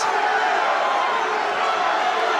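An arena crowd roars steadily at an MMA welterweight title main event, a dense, continuous wash of cheering and shouting with no clear breaks, filling the space evenly throughout.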